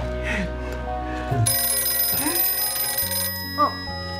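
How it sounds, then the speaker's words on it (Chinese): A telephone rings in a modern indoor domestic drama scene, with a steady electronic ringing tone carrying on for several seconds beneath a low room hum and a brief vocal sound. "我去接个电话"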